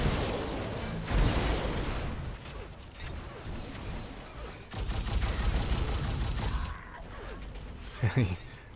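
Enforcer pistol shots in an Unreal Tournament match, rapid bursts of gunfire mixed with mechanical clicks and game effects, fairly close, with a commentator talking over the action.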